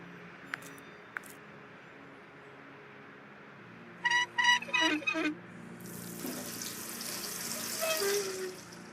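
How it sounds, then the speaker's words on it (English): Running tap water pours steadily into a sink in the point-and-click game Art of Murder: Hunt for the Puppeteer, a continuous close splashing hiss following a few short clicks and a brief burst of game chimes. "Enough with the water."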